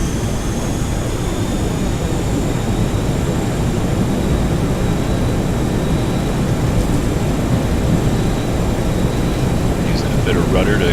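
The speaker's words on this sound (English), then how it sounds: "Let's power up the engines. Usually go about halfway and let them get spooled up and stabilized" The jet engines of a Boeing 737-200 in X-Plane 11 roar steadily as they spool up, a dense, constant rumble with a faint rising whine on top and no breaks throughout.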